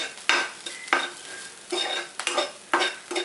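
Spoon scraping and stirring dry masala with flattened rice in a pan for poha upma, a series of sharp intermittent scrapes and clinks with a faint sizzle between them.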